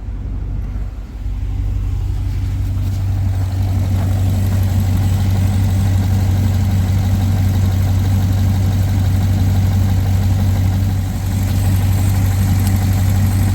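A 2020 RAM 2500 truck engine idles steadily during a thermostat change, a constant low rumble with a strong hum, close and loud throughout with no talking.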